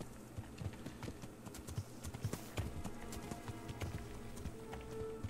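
Horse hooves clip-clop in the medieval game Kingdom Come: Deliverance, a steady trotting rhythm of moderately loud hoof strikes continuing throughout over a low background of game ambience.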